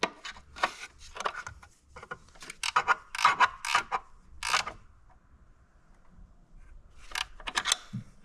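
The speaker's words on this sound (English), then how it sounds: "Wrench does the trick." A wrench turns bolts on a 2019 Dodge Durango oil cooler, producing close, irregular bursts of ratcheting clicks and creaks separated by brief pauses, with no talking.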